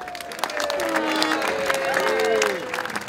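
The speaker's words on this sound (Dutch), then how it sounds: "een hartelijk applaus" Clapping from a crowd at an outdoor Koninginnedag gathering, moderately loud and sustained, with people talking and calling out over it.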